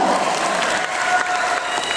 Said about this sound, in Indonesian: Tepuk tangan dulu buat Bengkel Sastra.